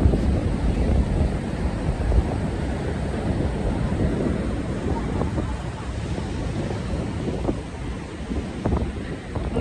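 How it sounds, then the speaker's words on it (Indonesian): Ocean surf rolls in at the beach at Nusa Dua, Bali, as a steady, loud wash of waves mixed with heavy wind buffeting the microphone, with a voice speaking at times. "Soalnya ombaknya kan juga nggak begitu besar ya."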